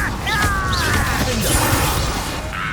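An Incendio fire spell is cast in Hogwarts Legacy, a loud, dense burst of crackling, whooshing magical effects with sweeping tonal swirls, continuous over the short span amid game sound.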